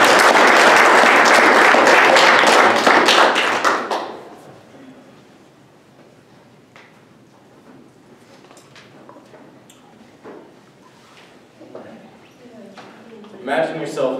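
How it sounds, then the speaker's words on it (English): A speech competition audience applauds loudly for about four seconds, then the clapping dies away into a quiet room with faint rustles and a few scattered sounds. "Give Max a round of applause."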